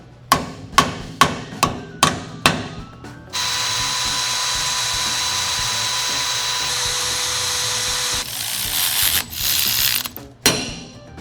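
Hand ratchet clicking in quick bursts while removing the differential actuator on an old Toyota truck, followed by a long steady mechanical whir and a few final sharp clicks, close and loud.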